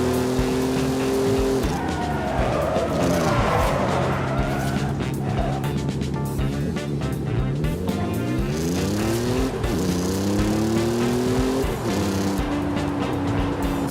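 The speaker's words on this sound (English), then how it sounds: "What kind of engine sound is that?" A Ford Performance truck engine revs loudly in Forza Horizon 5, its pitch sweeping up and down through gear changes with tire squeal mixed in, sustained and close throughout.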